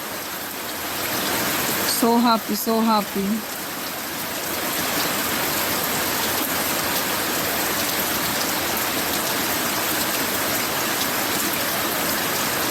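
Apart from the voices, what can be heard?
rain falling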